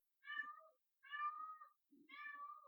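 A house cat meows three times in a row, each call drawn-out and evenly spaced, close and fairly quiet against silence.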